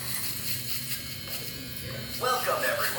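A Wahl Micro Power Shaver buzzes steadily and close, a constant electric drone that carries on under light background sound.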